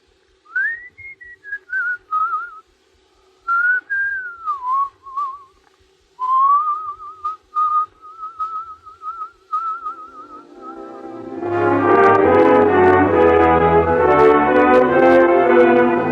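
A person whistles a melodic tune alone in phrases with short pauses, clear and close; after about eleven seconds the whistling gives way to a full orchestral music passage from a radio drama broadcast.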